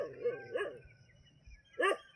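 A village guard dog barks in three short bursts, moderately close, with quiet stretches between the barks and a faint background hum.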